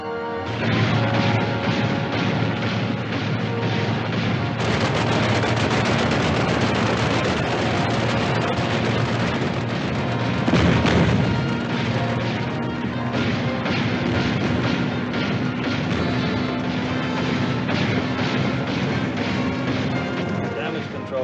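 Naval guns fire aboard a warship in a 1956 war film, heavy blasts buried in a dense, continuous roar of battle noise with a sharper crash near the middle.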